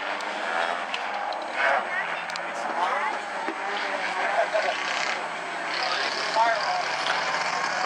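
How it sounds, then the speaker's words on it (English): Race cars at South Sound Speedway roar in a steady, loud engine drone as the field takes the green flag, with an announcer talking over the noise throughout. "the next time they come around to the start-finish line, the green flag will be waving, and Chris Brandon will get us underway."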